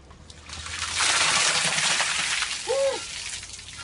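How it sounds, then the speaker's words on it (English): A bucket of ice water is tipped over someone for the ice bucket challenge, a loud rushing splash that swells for about two seconds and then trails off into dripping and trickling. "right now, I'm going to take the ice bucket challenge"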